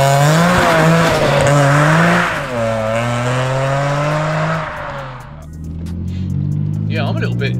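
A supercharged 570 bhp BMW E46 M3 accelerates hard close up, its engine note climbing through the revs with a brief dip at a gear change and a loud, continuous roar.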